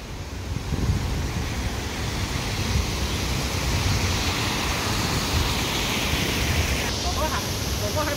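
Artificial waterfall in Hong Kong Park, a steady rushing water roar filling the scene at close range, with light wind buffeting and faint background voices.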